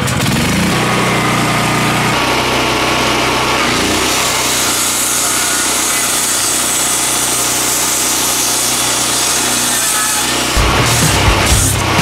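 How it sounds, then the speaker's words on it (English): A power saw, likely circular, cuts through 2x8 lumber for the floor framing of an off-grid solar cabin, a loud, steady, close whine that runs nearly without pause and ends with a few knocks. "we've gotta trim down these 2x8s"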